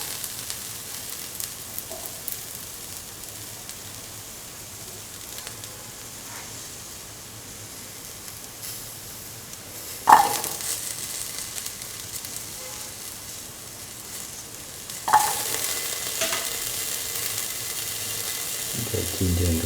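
Shallots fry in a pan with a soft, continuous sizzle, broken by two louder bursts as more goes into the hot oil.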